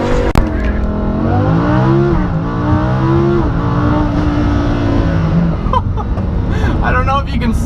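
Lamborghini Huracan launching under launch control, its engine note climbing loud and strong in rising sweeps through several seconds of hard acceleration, with a brief lull before it pulls again near the end.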